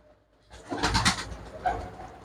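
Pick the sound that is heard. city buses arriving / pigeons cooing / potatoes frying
pigeons cooing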